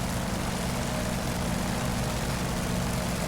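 Full-throttle roar of a simulated F4U Corsair's piston engine and propeller, a loud, dense, unbroken drone with strong low rumble and steady broadband hiss, heard alone without any voices throughout.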